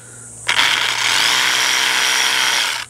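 A Pellenc commercial battery hedge trimmer's brushless motor starts up abruptly after a faint hum, then settles into a loud, steady high-pitched whir with a slight rattle, running alone and close.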